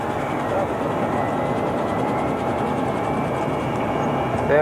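A Saudi Arabian Airlines airliner from the mid-1980s on final approach to landing, heard from the cockpit as a steady, loud engine and airflow roar, with faint voices mixed in.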